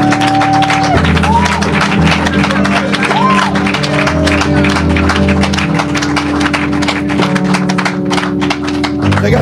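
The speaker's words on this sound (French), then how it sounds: "Acclame très fort là où tu es." Sustained applause and cheering from a church congregation, a dense patter of clapping that fills the space. A steady organ or keyboard tone and a few vocal swoops sit underneath.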